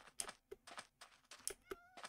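Minecraft cat meowing in a survival game world, several short meows spaced through the clip with clicky keyboard-like taps in between, moderately quiet and close.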